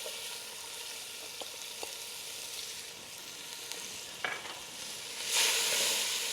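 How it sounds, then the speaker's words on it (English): Onion sizzles in avocado oil in a pot, a steady soft frying hiss with a few light clinks of stirring and a brief louder burst of crackle near the end. "So first things first, onion goes in."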